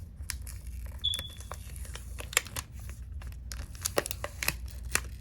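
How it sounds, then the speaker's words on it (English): Plastic protective film crinkles and tears as it is peeled off a new Motorola smartphone, a quiet, close series of short crackly rips and rustles over a faint background, no talking. "let's go ahead and peel off the plastic"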